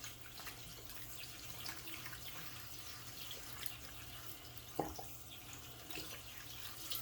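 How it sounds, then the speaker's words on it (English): Tap water runs steadily into a sink while hands are rinsed under it, a soft, continuous splashing with one brief clunk near the end, faint and without talking. "There, hands are washed off,"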